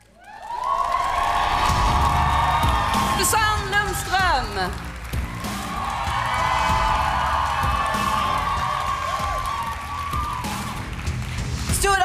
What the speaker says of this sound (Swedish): ge en varm och stor och välkomna applåd för årets deltagare